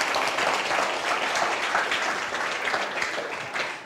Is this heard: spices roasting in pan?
no